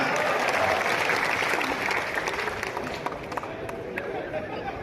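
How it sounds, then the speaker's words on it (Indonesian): A studio audience at an Indonesian comedy show led by Cak Lontong breaks into loud, steady applause that fills the room and tapers slightly toward the end. "Tepuk tangan buat Indonesia."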